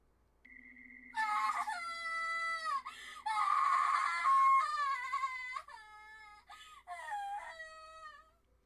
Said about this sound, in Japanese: 表の道を誰かが叫びながら走ってくる声が聞こえた。